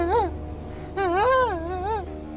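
A voice imitates a dog whimpering, with a short whine followed by a longer, wavering whimper, close and fairly loud.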